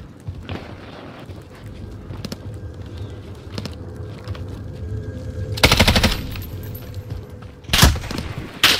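Bursts of automatic gunfire in a Warzone match on Rebirth Island, with a rapid stuttering volley mid-clip and another sharp burst near the end over a constant game background rumble.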